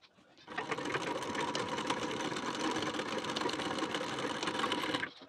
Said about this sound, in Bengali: এখানে আমি মেশিনে সেলাই দিয়ে নেব।